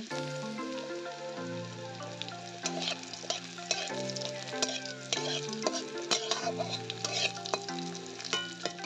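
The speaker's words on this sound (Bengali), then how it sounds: "এরপরে কিন্তু ভালো করে রসুনটা একটু ভেজে নেব।" Garlic and green chillies fry in a pan for a jute leaf dish, making a steady crackling sizzle mixed with prominent melodic background music.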